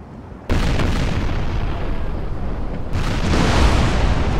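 Warship cannon broadside in the Napoleon Total War naval battle game: a sudden heavy boom cuts in and a dense rumbling barrage of gunfire rolls on, swelling again with a second loud burst near the end.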